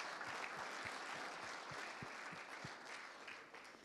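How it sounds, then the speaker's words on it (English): A room of attendees at a breakfast business meeting claps for the wait staff, a dense, even patter of applause held steadily before tapering off slightly at the end. "So would you please give a round of applause to our wait staff who are taking such great care of us."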